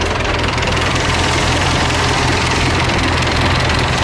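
An old 1981 tractor engine runs loud and close, a steady, rough, knocking rumble that never lets up.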